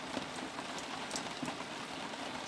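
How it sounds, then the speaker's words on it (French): Rain falls steadily on a boatyard where a sailboat hull is being sandblasted, making a soft, even hiss of drops on surfaces with no voices. "Il fallait pas qu'il pleuve et il pleut."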